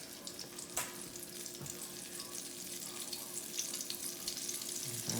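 Southern-style chicken pieces, dredged in flour, fry in a pan as a steady, fairly quiet sizzle and crackle, with a couple of small knocks and no speech.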